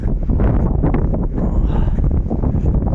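Strong wind beside a forest roars and buffets the microphone in a continuous, loud, low rumble, with no voices.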